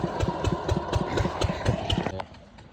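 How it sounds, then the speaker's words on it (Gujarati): A small water pump engine runs steadily nearby on a farm at night, with a rapid, regular thumping pulse, then cuts off abruptly near the end. "આ બાજુ આપણું એક મશીન ચાલુ છે"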